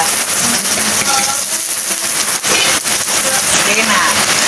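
Garlic and onion sizzle in a little cooking oil, a loud, dense, continuous frying hiss close by, with someone talking over it.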